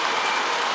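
An O-gauge model train switcher runs along its track with a brief, steady whirring rumble and no voices.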